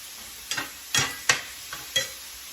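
Breakfast sausage cooking in a pan gives a soft sizzle broken by about five sharp scraping stirs at an uneven pace, each one a short bright burst close by.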